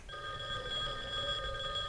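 A classic ringtone imitating an old telephone bell, set as the incoming-call sound in Skype, rings steadily and fairly quietly over the whole two seconds, its tones sustained without a break and with no voices.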